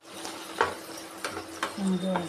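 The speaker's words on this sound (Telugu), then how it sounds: "ఇది వేగుతూ ఉంది కదా కొంచెం ఎక్కువనే వేగాలి" Thick ajwain leaves for a chutney fry in a pan with a soft, steady sizzle, punctuated by a few light stirring clicks.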